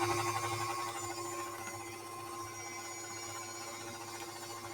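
Electric mixer running steadily at a higher speed, blending a peanut butter cookie mixture for peanut butter blossoms; a continuous, fairly quiet whir that holds even throughout.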